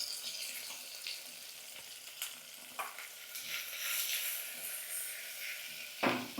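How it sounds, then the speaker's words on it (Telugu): Onions, green chillies, potato and carrot fry in ghee in a pan, a steady soft sizzle with occasional stirring scrapes and a louder clink near the end, quiet and without talk. "ఉల్లిపాయలు పచ్చిమిరపకాయలు వేసేసుకుంటున్నానండి నెయ్యిలో వేయించుకుంటున్నాను అలాగే ఆలు కూడా అలాగే క్యారెట్స్ కూడా"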